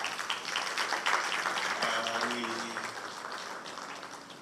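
Moderate applause at a manufacturing incubation hub event welcomes a colleague, a crowd of hands clapping fairly evenly and then slowly thinning, with faint voices underneath.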